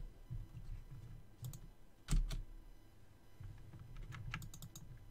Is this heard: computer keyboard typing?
yes